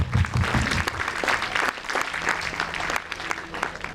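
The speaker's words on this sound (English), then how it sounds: "Huge round of applause for sir." An audience applauds at a national integration camp inauguration ceremony, a loud, continuous burst of clapping that stays dense and steady, with some background crowd noise underneath.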